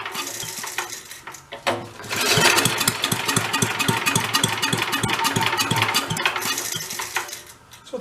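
A vintage Mite-e-Lite generator engine runs at full throttle, loud and close, with a fast rhythmic mechanical clatter and rattling after a brief rougher start.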